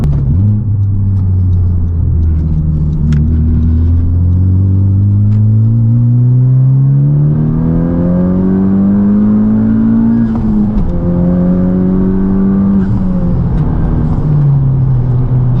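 A Honda Civic Type R engine with a Stage 2 tune revs hard, pitch climbing through each gear then dropping briefly at shifts, loud and close with a deep throaty rumble throughout.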